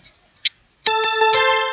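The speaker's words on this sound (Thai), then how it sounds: "คือเสียงโอแกนเนาะ" Electronic organ voice on a one-man-band keyboard, a bright sustained chord that starts abruptly after a few faint clicks and holds steadily with slight pulsing accents.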